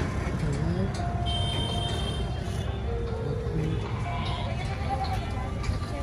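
Goats bleating at a busy outdoor Sunday pet market in Hyderabad, with several short bleats rising over steady crowd murmur and traffic noise, and people talking throughout.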